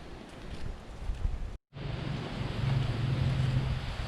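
Strong tropical storm wind in Akumal, Mexico, roaring and buffeting steadily with heavy rumble and a brief dropout partway through, no voices.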